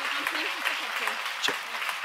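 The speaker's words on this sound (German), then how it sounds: "Klatschen." Studio audience clapping steadily at a televised ballroom dance show, a dense continuous wash of hands with a few sharper claps standing out, fairly close and sustained throughout.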